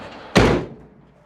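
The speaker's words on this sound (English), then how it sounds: "That door closes way better than it ever did." The door of a 1993–97 third-generation Ford Ranger pickup, its cab just refitted on new cab mounts, shuts with one solid, loud slam that fades quickly, with no talking.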